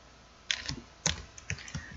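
A few sharp key clicks on a computer keyboard typing into Windows 10 Notepad, ending with the Enter key. The taps are crisp and close, spaced about a quarter to half a second apart in a quiet room.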